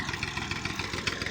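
A tractor engine idles steadily on the bank of the Ravi river, a continuous low chugging rumble with a faint rhythmic knock, fairly close and with no voices over it.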